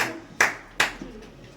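Scattered applause follows a poetry recitation at a National Youth Day and Swami Vivekananda birth anniversary event, heard as a few separate sharp claps, fairly quiet and brief.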